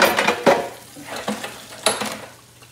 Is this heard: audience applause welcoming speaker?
no